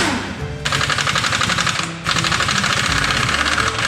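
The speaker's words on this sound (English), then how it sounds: "To the gun now? Yeah, let's do the bloody gun." Pneumatic impact wrench hammering at a stuck nut in a container home build, two loud sustained bursts of rapid rattling with a brief pause between, close to the mic.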